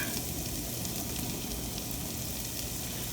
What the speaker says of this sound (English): So now we're just getting our onion sauteing.